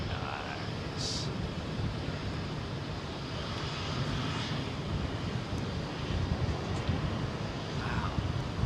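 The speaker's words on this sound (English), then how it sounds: "What a brisk old wind here tonight at London Heathrow." A brisk evening wind blusters across the mic at London Heathrow, a steady low rushing roar with gusts, while faint aircraft engine noise hums in the distance.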